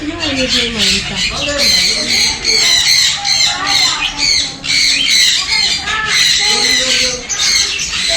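A macaw squawks loudly and harshly, close by, in a rapid string of raspy, grating calls that barely pause.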